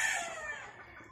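Bullstag gamecock giving a short crow, a single bright call that fades quickly, fairly close and clear with no voices over it.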